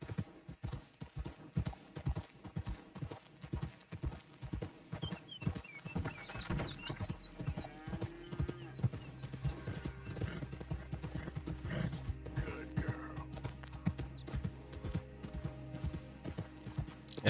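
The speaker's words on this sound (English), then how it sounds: "O cavalo corre bem." A mare's hooves clip-clop in a quick, steady rhythm as the horse runs, with a whinny partway through, heard fairly faint against a Western-style setting.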